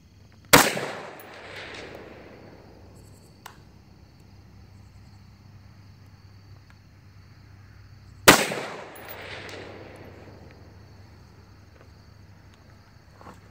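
Two loud rifle shots fired at a target, spaced several seconds apart, each a sharp crack with a decaying echo, loaded with 26 grains of CFE powder and a heavier buffer.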